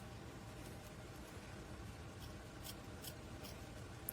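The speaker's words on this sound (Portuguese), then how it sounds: "Dá pequenos piquezinhos assim na parte arredondada." Small scissors snip little notches into the curved seam of a sewn cloth diaper cover, a few quiet, crisp cuts over a faint steady background hiss.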